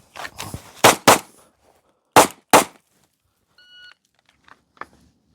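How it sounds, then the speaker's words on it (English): Four sharp pistol shots at an Alaska State Trooper qualification drill, a close pair to the chest, a brief pause, then a second pair to the head, followed by a faint beep and small clicks. "We will draw and fire 2 rounds to the chest, sidestep and fire 2 rounds to the head."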